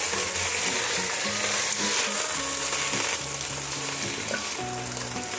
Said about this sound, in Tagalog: Paglalagay tayo ng mantika, ipapan-fry lang natin yung ating chicken liver